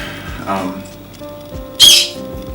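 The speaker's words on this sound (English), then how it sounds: "how annoying that bird's getting." A bird calls with sharp squawks and chirps, one loud burst standing out near the end, over an indoor background with a voice.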